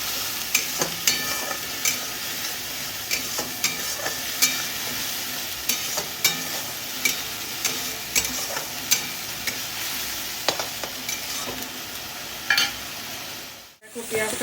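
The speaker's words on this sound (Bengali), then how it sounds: "এবার আমি পেঁয়াজটাকে ভালো করে ভাজা ভাজা করব।" Sliced onions with a spoon of sugar fry in a pan for katla fish curry, giving a steady soft sizzle punctuated by regular scraping and tapping strokes of the spatula, ending in a brief muffled bump.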